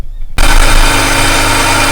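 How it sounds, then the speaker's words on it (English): Tool and cutter grinder with a wheel that needs dressing, starting abruptly after a brief quiet moment into a loud, harsh, steady broadband roar. "One is the awful sound that it makes, a very dull, crying out machine."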